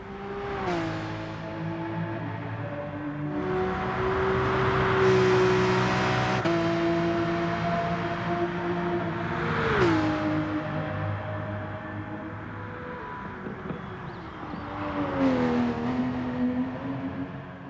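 GR3 race car lapping Bathurst in a racing video game, a continuous engine whine that rises through the gears with sharp pitch drops at each shift and repeated revving swells, with no talk.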